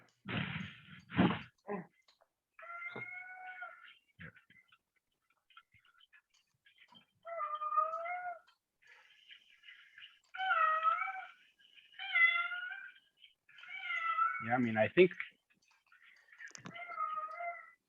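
A cat meows repeatedly, some calls drawn out and others short, with brief speech and a few clicks in between.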